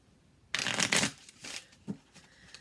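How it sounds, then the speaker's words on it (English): Tarot cards being shuffled and pulled from the deck, a loud close riffle-like burst followed by softer slides and flicks of individual cards, with no voice. "let me pull 3 cards and see what's going on"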